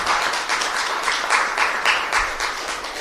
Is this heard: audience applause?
yes